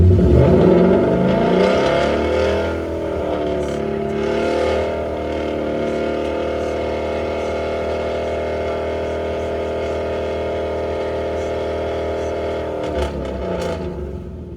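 A car engine with a VMP G3R supercharger revs hard, then holds a loud, steady, droning high idle with a whining layered tone before dropping off abruptly near the end.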